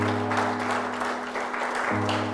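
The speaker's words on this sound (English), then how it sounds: "Yes, give a hand clap to the Lord." A church congregation at a Sunday service claps their hands in a brief, quiet round of applause over a sustained low instrumental drone.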